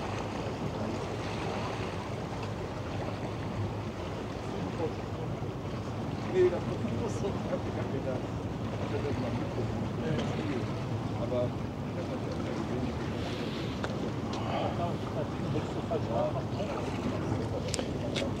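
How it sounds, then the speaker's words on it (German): A pilot boat's wake wave washes in over steady water and wind noise, a continuous rushing wash with a faint bump partway through, while voices murmur in the background. "War die Welle noch vom Lotsenboot?"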